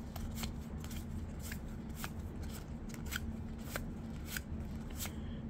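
A Pokemon Chilling Rain booster pack with Ice Rider Calyrex cover art is torn open close by, with crisp crinkling foil and scattered sharp clicks over a low steady hum.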